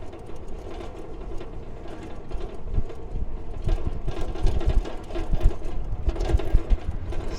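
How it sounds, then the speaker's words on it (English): Strong gusty wind buffets the microphone on a bike route along the Potomac in Georgetown, a low rumbling roar that swells and thumps in irregular bursts and grows rougher toward the end. "Oh, it's so windy out here."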